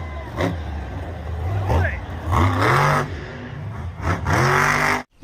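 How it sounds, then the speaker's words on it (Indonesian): A toy monster truck gives out repeated rising engine-revving sweeps, several bursts in a row, loud and near, with a voice talking around them. "ini mobil monster teman-teman"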